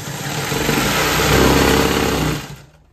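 A sewing machine runs steadily, stitching down the folded border strip of a quilt made from old saris, a continuous motor whir that holds for over two seconds and then stops.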